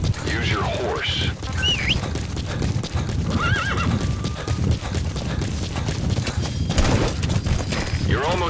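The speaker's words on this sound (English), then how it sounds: "Use your horse." A horse in Metal Gear Solid 5 clip-clops at a gallop and lets out several shrill neighs, the hoofbeats steady and close against a busy in-game backdrop with voices.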